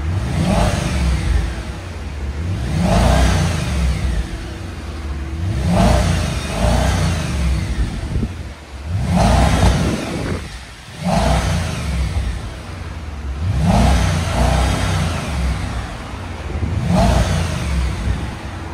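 A 2011 Audi S5 with a 4.2L V8 and muffler delete revs repeatedly, about six loud throttle blips that rise and fall in a steady rhythm over a low idle rumble, close by with no talking.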